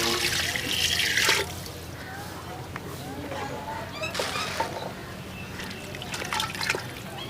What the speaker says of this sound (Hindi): पानी इतना ही डालना है कि पानी जो है ये डिप जाए इसमें।